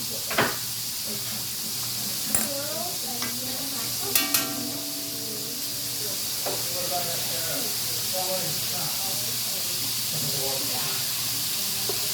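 Chicken tenders fry slowly in hot oil, a steady bright hiss and sizzle filling the whole stretch, with a few knocks and clinks in the kitchen and a voice talking over the cooking.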